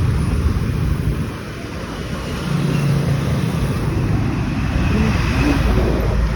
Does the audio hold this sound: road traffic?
yes